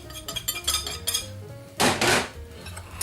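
Spices being mixed in a bowl for Kansas City ribs, heard as close clinks and scrapes of a utensil against the bowl, with a louder burst of stirring and rattling near the end.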